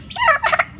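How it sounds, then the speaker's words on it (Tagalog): A single turkey gobbles up close, a quick warbling burst under a second long. "Sa English, turkey."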